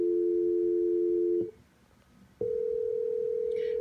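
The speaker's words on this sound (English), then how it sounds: "So precise dial tone" Precise dial tone from a telephone switch tone-plant chip: a loud, steady two-note electronic hum that cuts off, goes quiet for about a second, then returns as a single clean tone.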